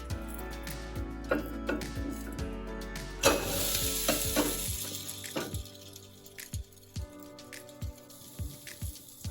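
Jowar flour breakfast fries on a pan with a little oil at the edge after being flipped, giving a steady close sizzle with scraping and stirring knocks, louder and crackling for a moment midway before settling into a softer fry.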